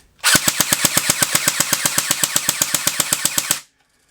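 A JG MAC-10 airsoft gun fires full auto in one loud, close burst of about 25 sharp shots at a steady rate of roughly seven per second, lasting about three seconds before stopping cleanly.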